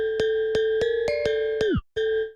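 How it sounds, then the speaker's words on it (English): A bright, metallic gamelan-like bell preset from a Korg Triton plays a rhythmic pattern of struck notes with shimmering overtones, ringing alone and clearly with a short pause near the end. "So like I said earlier, this bell sound, which sounds like this"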